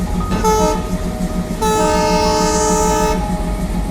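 Railway locomotive horn blowing a short blast and then a longer one in a departure signal, loud and close with a steady harmonic tone and a brief gap between the two blasts.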